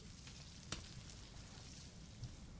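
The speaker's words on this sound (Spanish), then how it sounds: "Eso está cocinando ahí poco a poco." Food sizzles softly over a campfire in Stranded Deep, a faint steady crackle and hiss with a couple of small pops, heard alone at low level.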